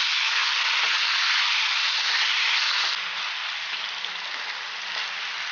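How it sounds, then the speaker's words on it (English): Potatoes frying in a pan for aloo matar masala, a steady dense sizzle that eases slightly partway through as they are stirred, with faint scraping underneath and no voices. "Give it a nice stir"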